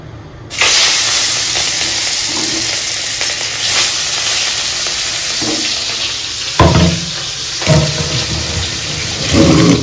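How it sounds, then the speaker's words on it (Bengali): Fish rubbed with salt and turmeric goes into hot oil and bursts into a loud hiss. The sizzle stays strong and steady, with a few sharper spitting surges toward the end. "মাখানো হয়ে গেল, একটু তেল দিয়ে দিই, মাছটা ভাজতে হবে।"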